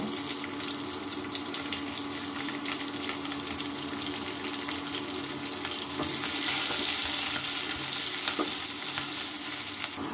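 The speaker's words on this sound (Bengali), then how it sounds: "হয়ে গেছে পেঁয়াজ, রসুন এবং মরিচটা ভাজা" Onion, garlic and dried chili frying in oil in a pan for a mixed vegetable dish, a continuous close sizzle with stirring scrapes that grows louder and brighter partway through.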